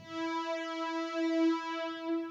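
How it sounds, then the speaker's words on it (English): A steady, sustained Helix synth note through a rack-mount stereo chorus model, with rich harmonics and a gentle shimmering, widened quality, playing alone without any talking. "model of a very popular rack mount stereo chorus"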